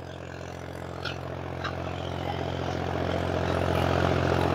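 A Solis 5515 tractor engine drones at full throttle during a pulling demo, a steady low hum with a loud, continuous tone that slowly grows louder.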